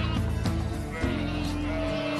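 Sjenica sheep, a breed from the Pešter highland, bleat repeatedly at close range, several overlapping calls in a dense continuous flock chorus.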